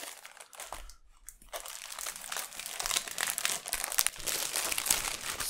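A plastic bag holding a LEGO Batman trading card game starter pack crinkles continuously and close up while it is handled and opened, with a brief quiet pause near the start.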